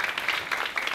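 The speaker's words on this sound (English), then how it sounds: "Let's give her a round of applause on that." A round of applause at a community talk, steady and fairly faint, without a clear break in the clapping over about a second.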